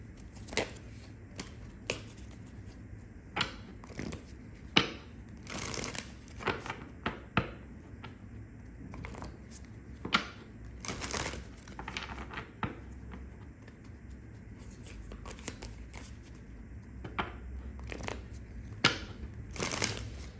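Tarot cards are shuffled and handled quietly and close by, giving a string of soft, irregular riffling clicks and slaps over a faint background.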